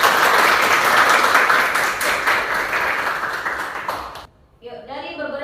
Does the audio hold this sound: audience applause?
yes